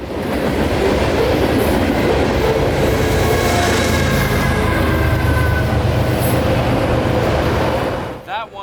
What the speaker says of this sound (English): running as a mid-train distributed power locomotive to aid in train handling and slack effort